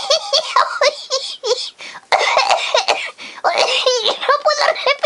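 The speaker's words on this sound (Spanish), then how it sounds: "¡Que me ha entrado la tos y eso es accidental!" One person has a loud coughing fit, close by, with repeated harsh coughs and throat-clearing running into laughter and excited speech.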